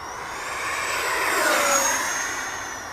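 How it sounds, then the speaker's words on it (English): An FMS F-18 radio-controlled ducted-fan jet makes a high-speed pass, its whooshing fan whine rising as it nears, peaking overhead, then fading away with a slight pitch drop. "It really has a good sounding fan system in it though"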